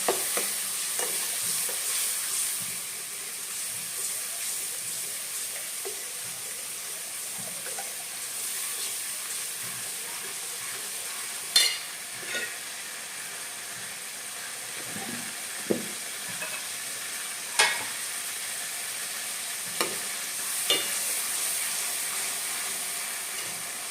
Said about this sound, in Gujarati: સરસ રીતે હલાવી દઈએ થોડીક વાર ચડવા દઈએ